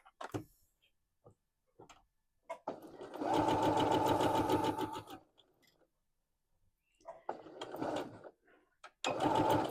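A sewing machine stitching fabric for a DIY dog poop bag holder, with short back-stitch bursts and faint ticks, then a sustained run of a couple of seconds, followed by further short bursts of stitching.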